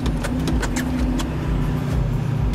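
Duramax diesel engine held at high rev with the accelerator floored, a steady loud low drone with constant engine harmonics and faint rattling clicks on top.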